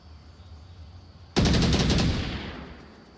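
A rapid burst of automatic gunfire from the VR shooter game Onward, during a competitive match, cracks out loud and close after a quiet moment, then its echo slowly fades.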